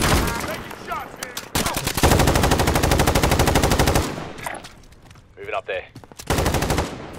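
Video game gunfire in Call of Duty Warzone quads: loud, sustained automatic bursts and rapid shots fill most of the stretch, pausing briefly while a player speaks before firing resumes.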